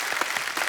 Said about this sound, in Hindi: तालियां और जोर से होनी चाहिए जरा